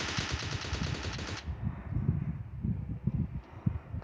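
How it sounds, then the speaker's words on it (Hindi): Gunfire in the PUBG Mobile Lite battle royale game, a dense burst of rapid automatic shots in the first second and a half, then softer scattered shots and movement noise continuing afterward. "मुझे स्टेडियम की तरफ से गनसॉन्स आ रहे थे"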